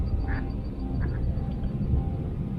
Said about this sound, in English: There's some ducks flying.